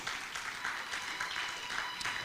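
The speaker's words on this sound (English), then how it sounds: "So let's clap for 94 years." Audience applause at an awards event in a hotel hall, a short, faint, steady patter of many hands clapping without voices.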